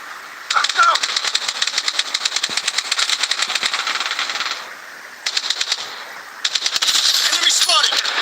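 Rapid automatic gunfire from a multiplayer video game rattles in long sustained bursts with brief pauses, loud and close, with voices talking over it.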